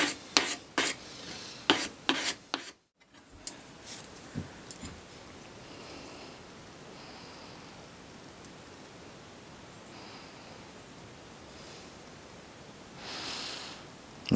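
The sole of a moulding plane is rubbed on fine-grit sandpaper, a few sharp scraping strokes at first, then a brief silence and a long, steady, faint rasping hiss.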